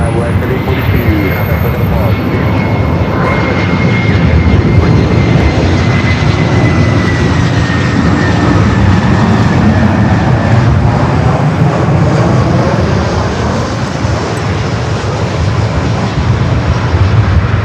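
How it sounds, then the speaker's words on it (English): A Boeing 777-200ER arriving at LAX from Vienna roars loudly and continuously with a steady jet rumble and a slowly shifting engine whine, heard close with talk over it. "Of the flight coming up from Vienna, the 777-200 ER."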